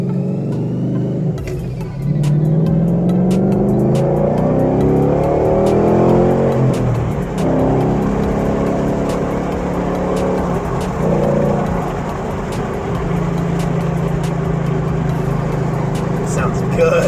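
2012 Mustang GT fitted with a Flowmaster Outlaw exhaust idles with a deep burble, then revs up in rising sweeps that ease back down. The loud, close engine note carries on steadily, and speech can be heard over it.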